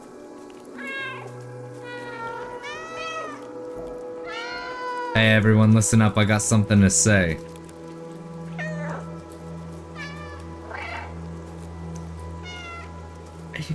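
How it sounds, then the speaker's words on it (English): Repeated cartoonish meows from a cat in a video game, several short calls spread through the stretch, mixed with game music and a loud jumbled burst midway while someone speaks. "This is literally press B to meow."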